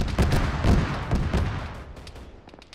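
Rapid, heavy gunfire from an Arma military shooter game, with repeated bursts of shots and booms crowding together in the first half, then thinning and fading toward the end, with no voices.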